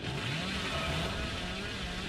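The Hillbilly's chainsaw revving in the horror video game Dead by Daylight, a steady, loud, buzzing engine drone that holds constant without a break.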